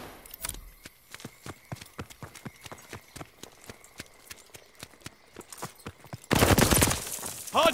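Gunfire at a hardpoint in a video game: rapid, evenly spaced sharp shots crack out steadily, then give way to a loud, dense roaring burst near the end.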